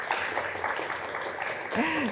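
Audience applause at a book-stay talk on shamanism in Inje, Gangwon Province, a dense spread of hand claps filling the room with a voice rising briefly near the end.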